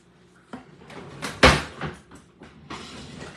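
Spice containers are set back into a kitchen cupboard, a few scattered knocks and clatters with one louder bang near the middle and a cupboard door sound at the end.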